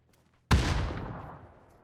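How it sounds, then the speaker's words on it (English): A frag grenade goes off during a professional PUBG esports match: one sudden loud blast that rolls out into a long, fading rumble and decays over about a second, with no speech over it. "using the final frag grenade that he's got"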